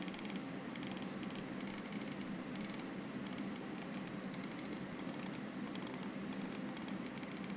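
Computer mouse switches click in quick bursts of sharp, dry, close taps, with short pauses between clusters, over a faint steady hiss.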